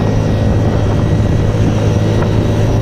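A Honda Vario scooter with a 59mm bore-up engine, tuned for bracket drag racing, holds a loud, steady high-rev drone while sitting on its rev limiter, buzzing continuously throughout.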